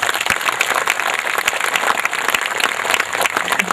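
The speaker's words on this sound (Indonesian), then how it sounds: "Saya kira tepuk tangan untuk." An audience claps at a poetry reading by Taufiq Ismail, a dense, steady crackle of many hands that fills the whole stretch at moderate loudness with no voices over it.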